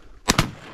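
Two loud, sharp shotgun blasts in quick succession during a North Dakota duck hunt, each with a brief ringing decay, then quiet outdoor background.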